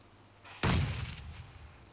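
A grenade detonates in PUBG Mobile, a sudden loud, close boom that hits hard and then rolls off into a rumbling decay lasting over a second, with no talk over it.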